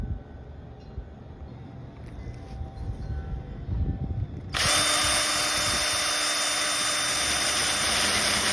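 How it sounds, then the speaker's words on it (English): A power drill at high speed, running on a gun barrel or parts, kicks in loudly and close about halfway through after a quieter lead-in of handling noise, then holds a steady shrill whine to the end. "You can go fast on your drill speed, but you got to go real slow"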